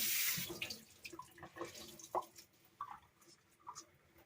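Water splashes and trickles as a wet rag is wrung out over a sink while making Nablus soap, a loud first gush followed by scattered soft drips and squishes, close and faint.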